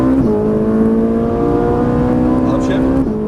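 A Ferrari 458 Italia on a Las Vegas track, its engine dropping in pitch at an upshift and then holding a strong, steady howl before another shift near the end, loud and close.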